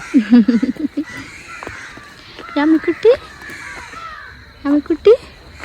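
Crows caw loudly and close by in three quick bursts of harsh, repeated calls, with short quiet gaps between them.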